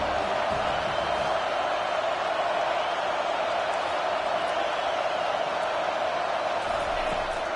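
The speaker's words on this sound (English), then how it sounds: "this crowd is turning it up a notch" A large football stadium crowd roars in a steady, dense wash of noise at a college game against USC, loud and continuous with no distinct claps or breaks.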